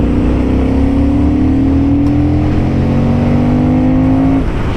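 An A2-class motorcycle pulls away hard from a standstill, its engine note climbing steadily in pitch through one long rising pull, loud and close, on a mountain road in the Alps.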